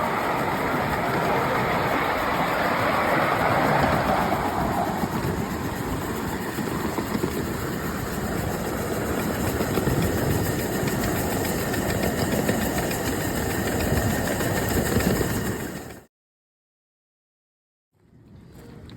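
A 1973 steam engine running steadily with a loud, dense mechanical roar and hiss, continuous for about sixteen seconds before cutting out abruptly into silence, then resuming briefly at the end.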